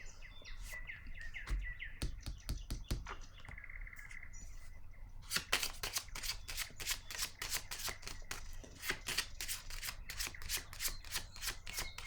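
Playing cards are laid down one on another, giving a series of sharp, quick slaps and flicks, sparse at first and then rapid and repeated, close and fairly quiet against a faint room background.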